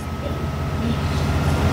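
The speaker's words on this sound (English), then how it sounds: "It's quite the train." A Class 67 locomotive in the game Train Simulator 2013 runs at speed with a steady low diesel drone and rail rumble, and a brief tonal squeal appears partway through.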